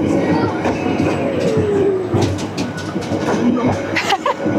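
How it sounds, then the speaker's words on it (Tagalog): A train passes by near the Busan coast with a steady, loud rumble and rail clatter, a wheel squeal rising partway through, and a voice speaking over the noise. "Train!"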